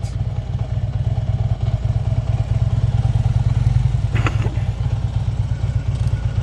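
A motorcycle rolls through a slow-speed right-hand U-turn, its engine a steady low, close rumble at low revs throughout, with a brief clattering burst partway through and no talk.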